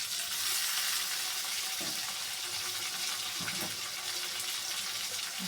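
Onions sizzling in a pan for a hilsa fish curry with bean seeds, browned lightly, give off a dense, steady hiss throughout, near and loud, with no talk.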